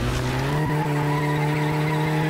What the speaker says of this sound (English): Burnout, baby.